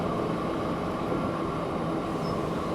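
Train rolling along a track in Transport Fever 2, a steady, continuous rumble with a low drone and faint wheel noise holding at an even level throughout, no voices.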